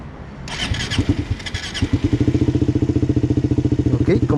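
A Suzuki motorcycle engine cranks over a few times, fires up and settles into a steady, throbbing idle, close and loud with no one speaking.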